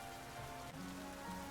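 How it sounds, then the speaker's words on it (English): Rain falls in the video game Pokémon Legends Z-A, a soft, steady hiss of many drops at low volume with no voices over it. "It's raining."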